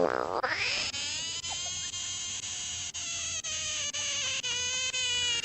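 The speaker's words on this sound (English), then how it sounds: "Did you guys know frogs screamed?" A frog lets out a long, loud, high-pitched scream that holds steady for several seconds, close and alone, broken only by tiny dips.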